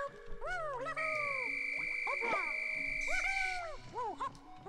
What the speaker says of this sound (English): that whistle went on a little long